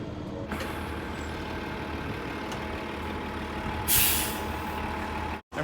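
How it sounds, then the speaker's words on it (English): A city bus idles on a street in downtown Frisco, Colorado, its engine rumbling steadily before a sharp hiss of air brakes bursts out partway through, followed by a brief drop in sound. "That bus just dropped me off."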